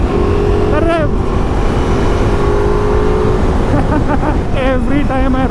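A Ducati motorcycle, a Multistrada V4 Pikes Peak or Hypermotard 950 RVE, drones loudly and steadily while riding, with the engine note shifting as the throttle is rolled and a voice talking over it.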